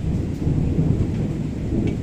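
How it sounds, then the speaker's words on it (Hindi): Heavy, steady rain roars without a break, with a deep low rumble of thunder running underneath. "बारिश रुक रही नहीं"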